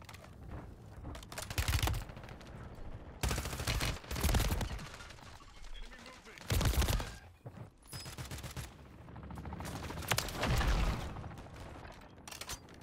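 Gunfire from a long gun in Call of Duty Modern Warfare 3 Warzone, several separate bursts of rapid automatic shots spaced a few seconds apart, loud and close, with quieter mechanical sounds between them.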